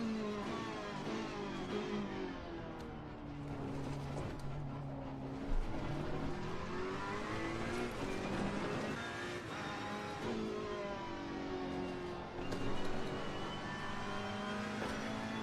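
Race car engine in Assetto Corsa Competizione on a flying lap, a loud continuous high-revving tone rising and falling through gear changes and corners, heard alone without talk.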